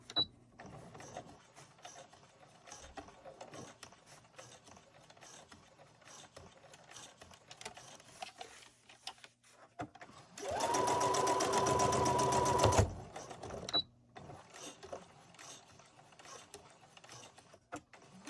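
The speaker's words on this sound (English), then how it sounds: "now we're back stitching to sew up all our work" A sewing machine back-stitches a seam on a cloth face mask, a dense whirring burst lasting a few seconds that rises over quiet workroom handling noise, then stops.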